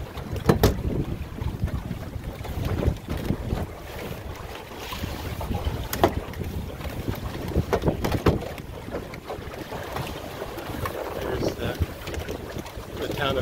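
Gusty wind buffets the microphone while sailing a Drascombe Lugger on Big Rideau Lake, steady rumbling wind noise with water sloshing against the hull and occasional knocks from the boat.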